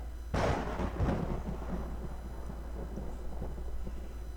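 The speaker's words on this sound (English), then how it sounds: "there's no music anymore. It's just the sound of the storm." A storm rumbles in the Touhou Scarlet Curiosity video game, opening with a sharp thunderclap and a second crack before a long, low rolling growl and steady hiss with no music.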